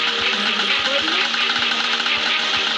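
A vehicle engine drives along in the game Antarctica 88, giving a continuous mid-pitched engine drone with regular low thumps roughly every third of a second.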